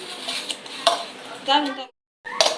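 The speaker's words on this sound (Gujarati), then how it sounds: "આપણી દેશી સ્ટાઇલમાં શાકભાજી સૂંધી નાખીએ" Vegetables for pav bhaji mashed in a bowl with a glass in a home kitchen, giving soft clinks and squishy thuds in short bursts, close and moderately loud, with someone speaking briefly over it.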